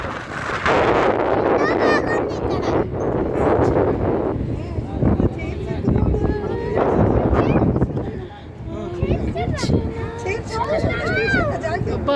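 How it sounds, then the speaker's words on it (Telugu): Strong wind buffets the microphone outdoors at a meditation centre, heavy rumbling gusts that come and go throughout, while people talk over it. "చాలా గాలి వస్తుంది."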